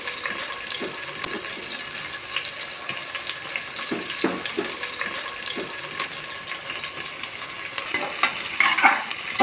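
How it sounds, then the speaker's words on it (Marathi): Sliced onion fries in hot oil with whole garam masala, a close, steady sizzle broken by the scrape and tap of stirring, growing a little louder toward the end. "कांदा चांगला लाल होईस्तोवर फ्राय करायचा आपल्याला।"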